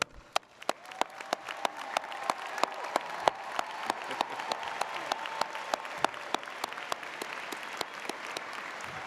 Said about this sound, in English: give your family and friends the thunderous applause that they deserve